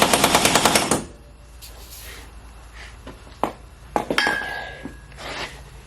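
Pneumatic impact wrench, run off a shop air compressor, hammering in a rapid burst on Nissan 240SX subframe bolts during a cold late-night job, then scattered metallic clinks and knocks.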